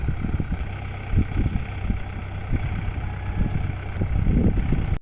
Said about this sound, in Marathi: ते बघा ट्रॅक्टर काढायलेत